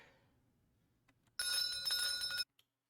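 A bell is rung under a table, a single bright ringing burst lasting about a second after near silence, followed by a tiny faint tap.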